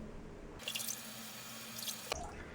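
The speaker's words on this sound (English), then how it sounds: "I'm gonna rinse off." Running water splashes at a bathroom sink for about a second and a half as a face is rinsed after a straight razor shave, close and soft with brief louder bursts, starting and stopping abruptly.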